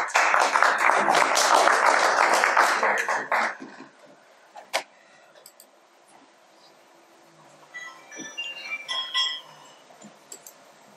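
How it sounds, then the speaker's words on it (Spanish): Loud audience applause fills the first three and a half seconds as a cultural official is welcomed to a museum day talk, then fades into quiet room noise with a few scattered claps and small clinks. "la recibimos con fuertes aplausos."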